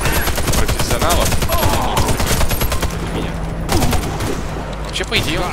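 Rapid bursts of automatic gunfire from the Warface shooter game during the Icebreaker mission, dense overlapping shots with brief pauses, loud and close, with someone talking over the shooting.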